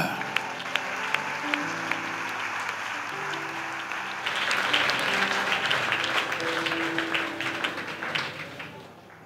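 A church congregation applauds during a sermon, with scattered claps at first swelling into fuller, denser clapping from a large crowd in a reverberant hall, with cheering voices mixed in.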